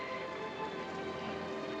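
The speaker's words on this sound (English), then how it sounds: "We'd better get inside someplace before it starts to rain." Rain falling steadily, a dense, even hiss of drops on surfaces that holds a constant level throughout with no voices.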